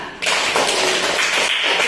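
A classroom of pupils breaks into applause, a dense burst of many hands clapping that starts abruptly and continues steadily without talk.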